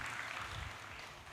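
An audience claps to welcome a speaker at a talk: a brief, fairly faint wash of many hands clapping together, steady and fading slightly at the end.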